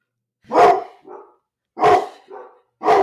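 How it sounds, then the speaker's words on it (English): Dogs barking indoors, three loud, close barks spaced evenly, each followed by a softer short yip or second bark, with silence between them. "I deal with the 3 dogs that are barking for unknown reasons currently."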